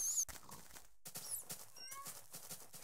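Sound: horse neighing in video game (Minecraft)

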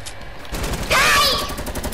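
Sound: gunfire from players shooting in Fortnite video game

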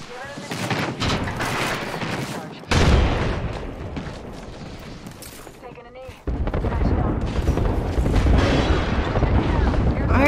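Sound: airstrike explosions and gunfire in a video game

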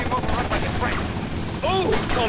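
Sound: helicopter in the video game GTA Vice City

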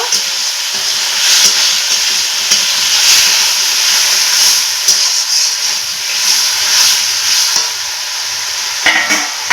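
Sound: fried potatoes being stirred and sautéed with spices

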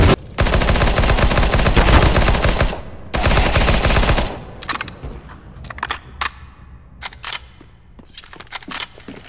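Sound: machine gun firing in the video game CS:GO

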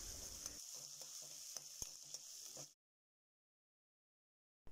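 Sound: sautéing sliced onions with salt in a pan

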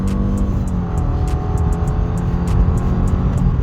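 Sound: 2016 Subaru Legacy 2.5 accelerating uphill

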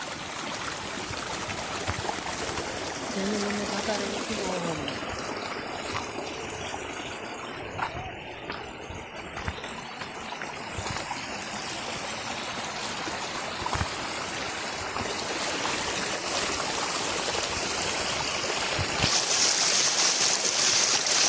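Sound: water flowing down a hill stream

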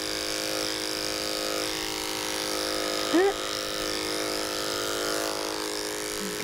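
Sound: electric clipper shaving a dog's feet

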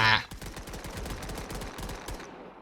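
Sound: shotgun gunfire in video game Crowz

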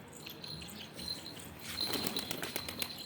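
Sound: bird flapping its wings in flight

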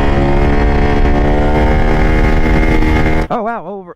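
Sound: motorcycle riding on the road

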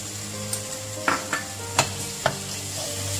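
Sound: garlic and ginger frying with onions in karahi

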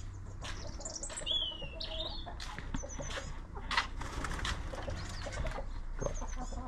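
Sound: chickens clucking and rooster in back garden

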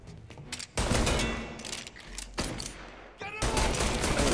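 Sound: gunfire from the video game Mafia Definitive Edition

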